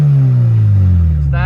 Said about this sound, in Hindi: आपको जरा मैं आवाज चेक करवाता हूँ ओपन काटे की